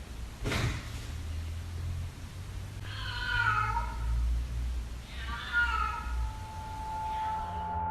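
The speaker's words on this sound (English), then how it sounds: "If it actually turns out to be a cat" A cat meows twice inside a home, the drawn-out cries rising over a steady low hum and background noise. The calls sound moderately distant and faint.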